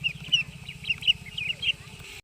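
Domestic chickens cluck nearby in a rural yard, with several short, irregular bursts of clucking and chirping over a low background rumble.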